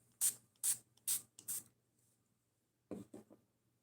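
Short hissing bursts of spray paint on a knife, four quick sprays in a row, a pause, then three more softer bursts, close and fairly quiet.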